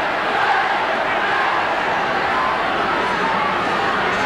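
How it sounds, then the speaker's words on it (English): Rugby league crowd at a Wigan v Manly match, a dense roaring cheer and chanting from a large stadium audience, loud and sustained without a break. "And listen to this crowd."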